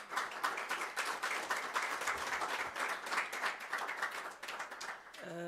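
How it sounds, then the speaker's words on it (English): An audience claps warmly at a literacy day celebration to welcome a speaker, steady dense applause filling the room for several seconds before it thins out at the end. "A round of applause"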